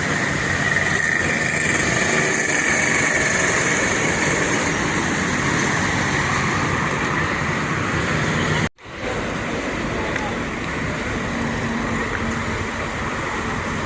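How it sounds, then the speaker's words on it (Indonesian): Steady, close drone of a bus engine idling at the roadside in Sumatra, with a continuous rumble and a faint whine, briefly cut off partway through, then resuming just as before. "Ini busnya agak lama kayaknya stop di pinggir jalan ya."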